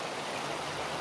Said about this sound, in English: small waterfalls.